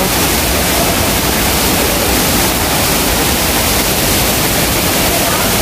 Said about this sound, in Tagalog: welcome to Vera Falls